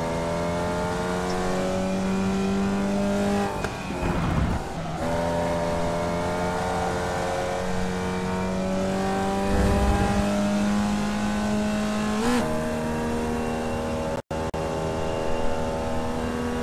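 Formula Vee race car engine in a racing video game, driving to the pits at Mid Ohio: a steady buzzing drone that shifts pitch through gear changes, with a brief dropout near the end and no talking.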